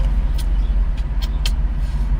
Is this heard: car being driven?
yes